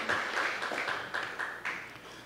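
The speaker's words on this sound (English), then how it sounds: "Let us give them a better round of applause than that" Church congregation at a Sunday Advent divine worship service clapping in welcome, a fairly faint, steady patter of many hands with a few louder swells, heard from a distance in a reverberant hall.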